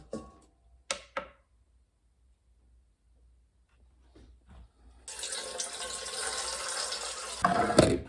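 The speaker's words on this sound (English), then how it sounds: "put it on the scale and put in 750 grams of water" Tap water running steadily into a large mixing bowl set on a kitchen scale for sourdough bread, a continuous splashing fill lasting about three seconds, preceded by a few sharp clatters of the bowl being handled.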